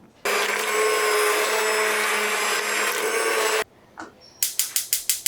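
Immersion blender whirring steadily in a pot of chicken potato tortilla soup for about three seconds, then cutting off abruptly, followed by a brief clunk and a quick series of rhythmic scraping clicks.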